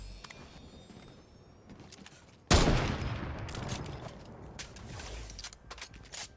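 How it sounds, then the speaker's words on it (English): A loud gunfire burst from a sniper rifle in Fortnite Zero Build, Chapter 4 Season 2: a sharp broadband crack at mid-clip, followed by a long rumbling tail and scattered clicks and mechanical game sounds. "I think there's a sniper on this body, wasn't there? Yeah. We can maybe snipe this guy"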